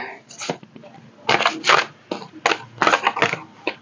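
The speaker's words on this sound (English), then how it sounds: "Let me give this a shuffle." Close, crisp bursts of a deck of cards being shuffled, several quick riffles in a row with brief pauses between.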